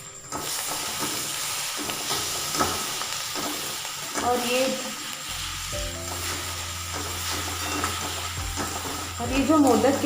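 Gulkand modak filling is stirred in a hot pan, with a soft scraping and gentle sizzle, spoon knocks and clinks against the pan, and a low hum in the background.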